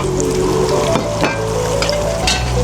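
Steady crackling sizzle of batter-coated sweet potato slices frying in hot oil in a wok, continuous and close, with a few soft clinks of utensils against the pan.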